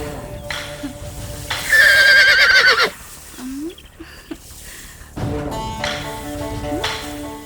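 A horse gives one loud, shrill whinny that rises and falls for about a second, with fainter snorts and scattered background noise before and after it.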